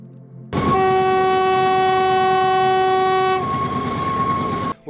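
A train horn blasts loudly and steadily for several seconds over the rumble and clatter of a nearby train near Ella, Sri Lanka, then the rolling noise continues after the horn stops.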